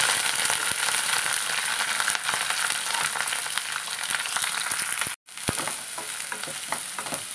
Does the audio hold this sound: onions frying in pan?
yes